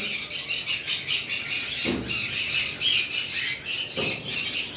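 Caged pet lovebirds in a bird shop squawk and chirp over and over, shrill and close, with a couple of brief low thumps among the calls and no one speaking.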